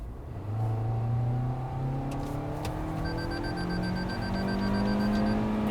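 From inside the cabin of a 2022 Toyota Corolla Cross, the engine climbs in pitch under hard acceleration, a rising drone joined by a steady electronic chime partway through, with no one speaking.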